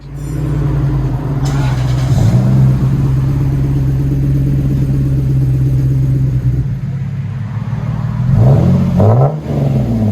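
A 2003 Lexus GS 300 with a 2JZ engine and Magnaflow Magnapack exhaust idles with a steady, loud rumble, then gives short revs near the end.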